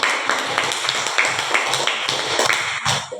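Scattered hand clapping from a fourth-grade classroom of children, a group applause with irregular, overlapping claps at moderate loudness, lasting a few seconds without speech.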